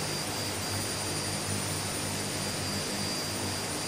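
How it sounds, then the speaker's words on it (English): Twin turboprop engines of a Twin Otter or Kodiak 100 running in Microsoft Flight Simulator, a loud constant whining drone with a steady high tone and no breaks or voices. "I've now got the engines running again"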